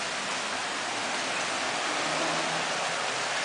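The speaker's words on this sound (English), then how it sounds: "now it's like hella thunderstorm and raining" Heavy summer rain pours steadily during a Paris thunderstorm, a dense unbroken hiss of falling water, moderately loud with no thunder or voices.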